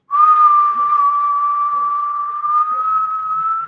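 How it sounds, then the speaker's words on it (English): A person exhales through pursed lips in a steady, sustained whistled breath during a breathing exercise, one long continuous tone lasting several seconds, close and clear, with faint background sounds underneath. "when we exhale, we're going to let it go through a whistle for the first 2 breaths"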